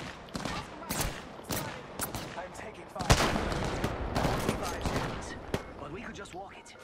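Gunfire in the game Apex Legends, bursts of sharp shots and rapid volleys scattered across the stretch, loud and close, with player voices talking over the shooting.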